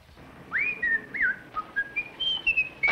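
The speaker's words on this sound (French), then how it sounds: "à vous entendre siffler" A person whistles a lilting tune alone, a run of clear sliding and held notes in short phrases, fairly close and steady against a quiet room background.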